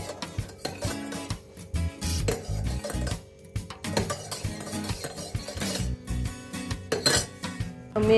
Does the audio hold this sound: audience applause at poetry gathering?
no